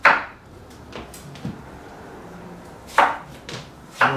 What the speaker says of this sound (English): here today we've got the papaya we're chopping up